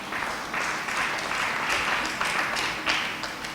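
An audience at the investiture of a new church president applauds and cheers, a dense, steady wash of clapping that swells in waves and holds loud throughout with no talking over it.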